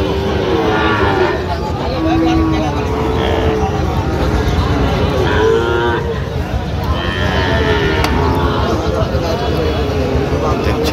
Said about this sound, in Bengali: এই গরুটি দেখছেন